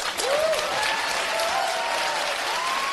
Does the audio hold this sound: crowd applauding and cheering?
yes